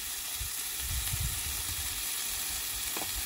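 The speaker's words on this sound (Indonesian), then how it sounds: "Sambil goreng kita nikmati" Food sizzles and fries in a pan over an outdoor grill in a forest on a mountaintop, a steady close crackle with a few louder bursts near the start.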